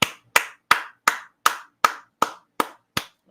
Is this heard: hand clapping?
yes